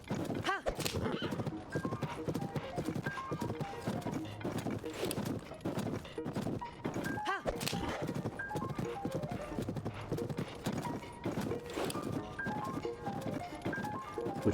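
A horse in a video game walks with steady clip-clop hooves and lets out neighs and whinnies, while someone talks over much of it and music plays along underneath.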